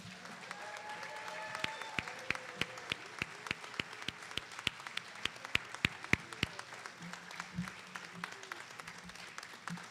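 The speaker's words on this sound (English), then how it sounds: "And how about a round of applause for Betsy, Roeder, and everyone at New York" A small audience claps steadily for several seconds at an event at the New York Mills Cultural Center, a thin patter of individual hand claps at a moderate distance, with no voices over it.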